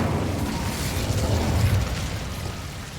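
A fire spell cast in Hogwarts Legacy, heard as a steady, loud roaring whoosh of flame with a low rumble that swells through the middle and eases off, continuous throughout with no voices.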